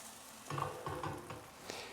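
Egg mixture ladled into a very hot pan and swirled, producing a soft sizzle with scraping, sliding pan movements over a couple of seconds, close and faint.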